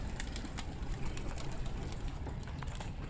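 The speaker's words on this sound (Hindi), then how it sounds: "तो ये देखें अब जो है वो ज़्यादा कबूतर बैठ रहे हैं" Pigeons coo at close range over a low, steady rumble of background noise, with faint wing flutters as the birds settle on a perch.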